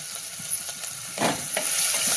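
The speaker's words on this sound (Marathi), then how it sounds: "हे चांगलं असं तेलामध्ये आपण मसाला छान परतून घेऊ" A ground paste of ginger, garlic, green chilli and coriander with turmeric sizzles in hot oil and is stirred, making a constant close frying hiss with a couple of brief louder scrapes and no talking.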